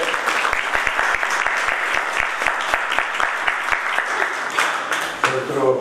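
An audience at a book event applauds arriving guests, a moderately dense clapping with a few sharp near claps standing out, continuing steadily before fading at the end.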